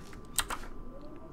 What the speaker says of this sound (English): I just realized I have a quieter keyboard.